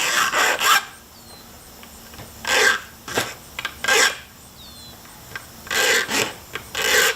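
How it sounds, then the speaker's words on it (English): Hand file rasping down the depth gauges (rakers) on a chainsaw chain, heard as a series of short, uneven scraping strokes in bursts with brief pauses, close and fairly loud, with no talking. "is just file down the depth gauges"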